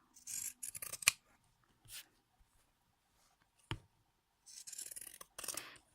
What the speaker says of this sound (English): this scissor can help you to cut the top